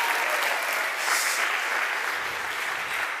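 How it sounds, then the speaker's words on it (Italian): An audience claps in a steady burst of applause for a man's wife at a live entertainment event, dense and continuous for a few seconds. "Un applauso a mia moglie."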